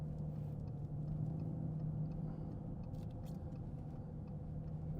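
Remapped 6.0 V12 diesel car accelerating in sport mode, a steady low engine rumble heard from inside the cabin, continuous and fairly subdued.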